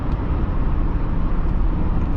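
A Chevy Silverado 3500 Duramax pickup at about 30% throttle cruising near 65 mph, giving a steady, fairly quiet low drone of engine and road noise that runs without a break.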